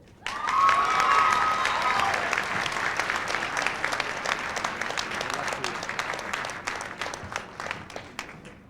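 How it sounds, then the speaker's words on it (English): A graduation audience at the Art Institute of Seattle applauds a graduate, sustained dense clapping swelling quickly and then holding steady for several seconds, with a few voices and cheers mixed into the crowd. "Round of applause for Michelle"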